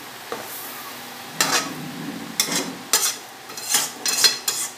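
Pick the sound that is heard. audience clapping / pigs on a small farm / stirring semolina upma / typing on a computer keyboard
stirring semolina upma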